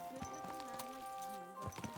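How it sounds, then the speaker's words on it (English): A horse's hooves clip-clop in Kingdom Come: Deliverance II, a steady close-up trot with a faint snort or whinny mixed in, and no talking. "Easy, good horse."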